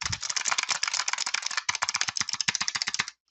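Typing on a mechanical keyboard with blue switches, a fast, close stream of crisp, clicky keystrokes in steady rhythm, with one short pause midway before it stops abruptly.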